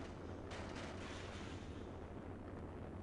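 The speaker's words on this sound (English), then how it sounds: "Missile launch in 15 seconds." Missile launch in the Sonic Adventure 2 video game, a loud sustained roaring rumble with a burst of hiss near the start, continuous and dense for the whole stretch with no speech.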